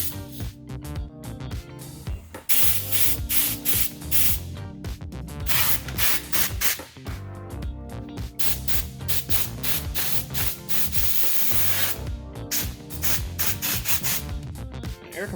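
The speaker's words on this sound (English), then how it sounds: "An air compressor is going to have a lot more pressure than compressed air." Air compressor blowing dust out of a computer tower, a loud, broadband rushing hiss in repeated bursts with brief pauses between, close to the microphone and heard without talk.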